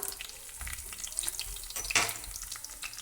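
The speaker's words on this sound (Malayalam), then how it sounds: "ഉലുവ ഒന്ന് മൂത്തതിന് ശേഷം ഇതിലേക്ക് ഒരു 3-4 ചെറിയ ഉള്ളി ഇതേപോലെ അരിഞ്ഞെടുത്തിട്ട് ഒന്ന് ചേർത്ത് കൊടുക്കാം." Chopped shallots fry with fenugreek seeds in hot oil for a fish curry, giving a steady close sizzle with a sharper burst of spitting and stirring clatter partway through.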